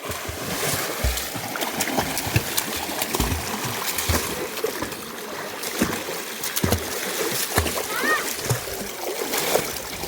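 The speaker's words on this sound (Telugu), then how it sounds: "చెర్రీ చెర్రీ ఈత కొడతాడు చూడండి ఫ్రెండ్స్ మస్తు కొడతాడు" People swim in the Godavari river, with irregular splashes and slaps of water close by and voices talking over the watery churn.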